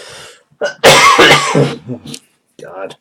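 A person coughs hard in a close burst of rough, throaty hacks, followed by a brief spoken exclamation and a short voiced sound.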